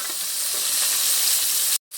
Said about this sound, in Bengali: এদিকে মাছটা ভাজা হতে আছে